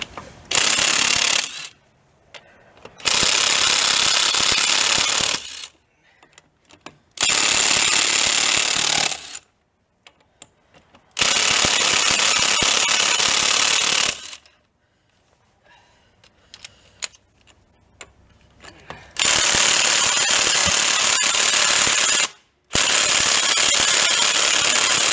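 A Craftsman C3 19.2-volt cordless impact gun rattles loose the wheel lug nuts on a Chevy Astro, firing in about six loud, hammering bursts of a few seconds each, separated by quiet pauses.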